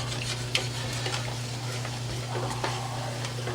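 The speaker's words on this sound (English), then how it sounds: "go around the bottom of this pan, sides of it, scrape off anything you can" A spatula scrapes around the bottom and sides of a pan after cooking chicken breast, a steady close scratching with light clinks over a low continuous hum and faint sizzling.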